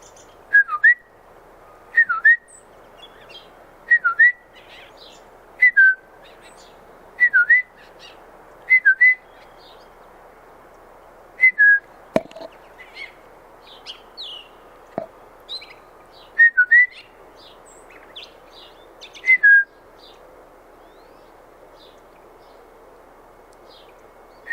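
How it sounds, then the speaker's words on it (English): Gray catbird in a garden giving repeated short mewing, whistled calls roughly every two seconds, clear and fairly close, with faint chirps from other birds between them. "that's the catbird. It's making the nice sounds."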